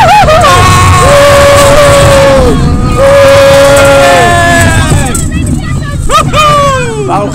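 Riders scream and whoop aloud on the Typhoon roller coaster at Bobbejaanland, long rising and falling yells overlapping close to the microphone, with wind rush and rattling ride noise underneath.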